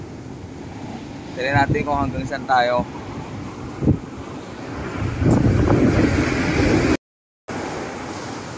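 Sea surf on the beach at Botolan, Zambales near high tide, a constant washing roar with wind buffeting the microphone, while someone talks briefly over it.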